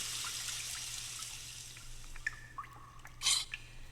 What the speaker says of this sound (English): There's a barrel here we empty of water.